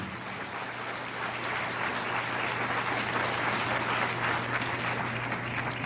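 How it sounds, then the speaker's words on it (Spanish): A church congregation applauding during a Spanish-language sermon, a steady wash of clapping heard from a distance over a low constant hum. "Dele otro aplauso al Señor."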